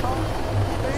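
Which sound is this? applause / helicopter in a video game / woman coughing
helicopter in a video game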